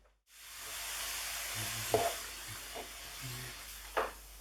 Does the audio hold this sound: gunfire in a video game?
no